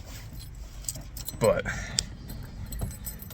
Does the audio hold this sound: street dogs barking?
no